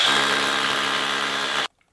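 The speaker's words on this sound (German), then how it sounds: "Schlagbohrer sind so cool. Die machen die ganze Arbeit für einen." A hammer drill bores into a hollow wall, giving a loud, steady whirring grind that runs unbroken and then stops abruptly, leaving near silence.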